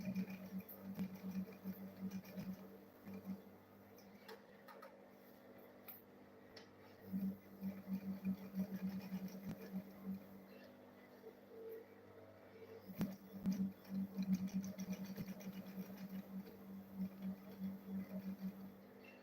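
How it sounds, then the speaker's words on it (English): A sewing machine stitches a small purse lining, running in faint, steady bursts of mechanical whirring with short pauses between runs. "then I'll sew it round."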